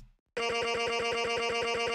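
An unprocessed vocal chop sample meant for an EDM drop starts abruptly after a brief near-silence, then holds a loud, bright, sustained tone with a rapid, even pulsing flutter running through it.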